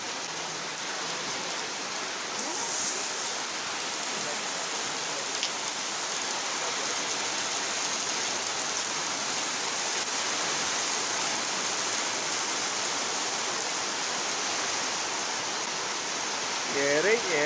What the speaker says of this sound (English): That's the sudden rain.